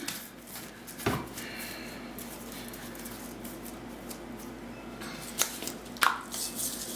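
Pink pre-colored seam binding gets wetted with water: soft, close wet squishing and dabbing over a steady hiss, with a few sharp brief crackles scattered through and no talking.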